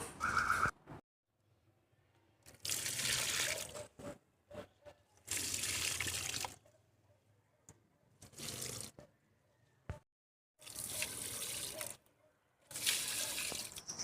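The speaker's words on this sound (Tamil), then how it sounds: "நான் இப்போ எல்லா செடிக்கும் தண்ணி ஊற்றிக்கிறேன்" Water splashes and pours onto garden plants in several bursts of a few seconds each, separated by quiet pauses, close by.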